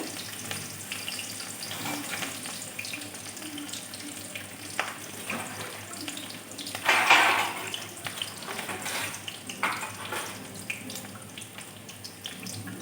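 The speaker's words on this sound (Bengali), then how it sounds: "তেল গরম হয়ে গেছে এবার পেঁয়াজটা দিয়ে দিলাম" Sliced onion dropped into hot oil in a wok sizzles steadily, with a brief louder burst near the middle as it hits the oil, then a continuous crackling fry with faint clatter, no talking.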